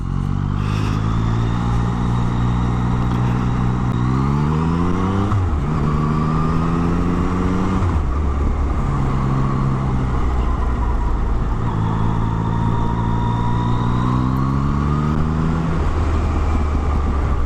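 A Yamaha XSR900 motorcycle engine revs and accelerates, its pitch rising in repeated sweeps through the gears, loud and close, with no talking.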